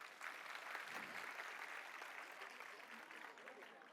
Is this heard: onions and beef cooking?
no